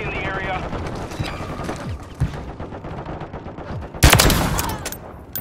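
Gunfire from a Call of Duty match, with scattered shots through the first seconds and a loud, sharp burst of fire around the four-second mark. Game voice callouts and background battle noise run underneath.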